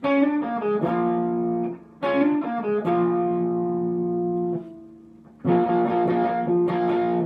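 An electric guitar plays a song intro at full speed, bright double-stop phrases in three bursts with short gaps between, lightly driven and ringing, with no voices.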